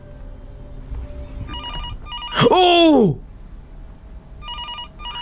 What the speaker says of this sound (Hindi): टेलीफोन बज रहा है